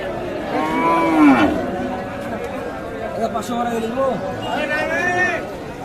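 Cattle low at a village cattle market where bulls are sold ahead of Eid sacrifice, with long drawn moos near and at mid distance over steady crowd chatter and voices.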